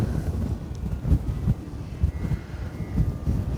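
Wind buffets a microphone outdoors, a low, gusty rumble that rises and falls in uneven bursts, with no voices.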